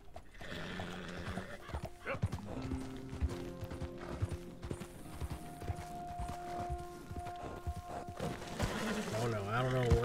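Horse hooves clip-clop steadily as a horse labors up a hill in the video game Red Dead Redemption, with occasional whinnies, game music and ambient effects, and someone talking over it throughout.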